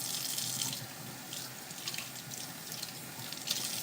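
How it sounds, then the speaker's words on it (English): Water runs steadily from a kitchen tap as hands are washed of raw meat juice, a continuous close hiss with small splashing variations and no talk. "All right, wash my hands. Get all that meat juice off them."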